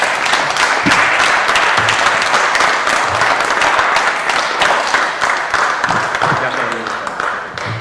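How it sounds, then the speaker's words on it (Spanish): An audience at a film forum event claps loudly and continuously, dense applause that fades slightly toward the end, with a few voices mixed in. "pues yo pido un aplauso para Sergio"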